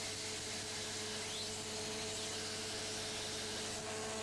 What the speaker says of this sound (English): What I'm doing now is grinding letter openers